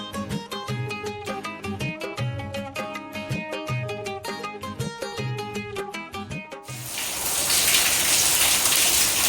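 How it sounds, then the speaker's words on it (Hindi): Rhythmic music plays at first, then cuts to a loud, heavy monsoon downpour hissing steadily and close for the final few seconds. "तो यहाँ पर भी ये देखिए झमाझम वाली बारिश हो रही है।"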